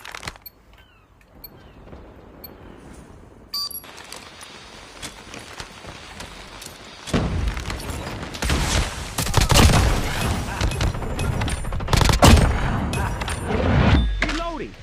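Call of Duty Mobile match with rapid shotgun blasts and other gunfire, loud sharp bursts coming fast and close after a quieter start, with game sounds mixed in.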